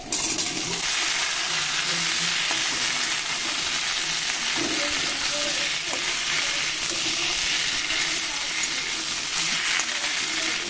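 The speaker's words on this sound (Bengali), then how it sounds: "দিয়ে দিচ্ছি কেটে রাখা টমেটো, ডাঁটা, আলু" Tomato, drumstick stems and potato frying in a pan with onion for a Bengali bata fish curry, giving a steady, loud, broadband sizzle that runs unbroken throughout with faint scraping stirs.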